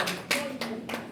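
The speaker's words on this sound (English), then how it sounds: "Please, let's give him a round of applause." Audience applause in a conference hall, several broad bursts of clapping about a third of a second apart over steady murmur, moderately loud and close.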